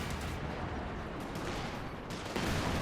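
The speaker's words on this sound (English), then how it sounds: "Nice hit there from the Pack Howitzer." A Pack Howitzer fires in the Company of Heroes 2 strategy game amid a dense wash of battle noise, with distant booms and gunfire rumbling continuously and a heavier burst toward the end.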